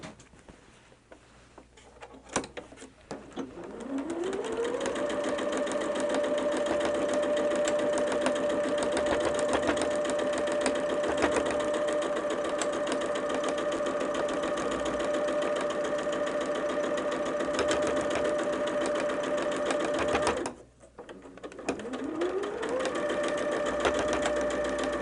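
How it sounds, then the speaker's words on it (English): A sewing machine stitches a holiday quilt block, running as a steady close mechanical whir for about fifteen seconds, pausing briefly, then starting up again. "Let's get sewing."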